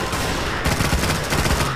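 Rapid gunfire rattles continuously in a Garry's Mod apartment raid map, a dense loud burst of overlapping shots with no pause.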